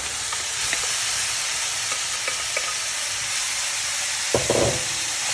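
Minced lamb with onion and garlic fries in a pan under a constant loud sizzle and hiss, with faint stirring taps and one sharper scrape near the end, with no speech.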